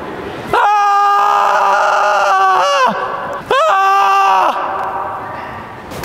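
A person on a VR roller coaster ride at a mall lets out two long, loud, piercing screams, the second following a short break, each sustained for a couple of seconds.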